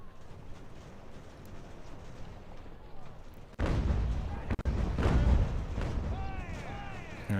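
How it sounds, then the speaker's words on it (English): Artillery guns fire in an American Revolution battle in Ultimate General, a sudden heavy boom followed by rumbling blasts and cracks at mid distance, with a voice talking over the battle. "these guns are firing, doing good work here"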